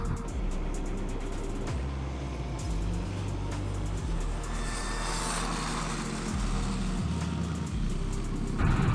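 A Razor MX650 electric dirt bike rides a track, its motor whine rising and falling in long steady surges with a brief drop midway, continuous and fairly close, with no talk.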